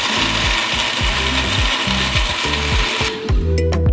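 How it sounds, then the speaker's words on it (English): Blender running at full power on chopped, peeled melon flesh, a loud steady churning whir with a rhythmic pulsing grind, close up and alone, easing off near the end. "We dump all this into a blender."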